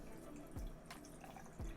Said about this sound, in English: I'll be able to pour the water.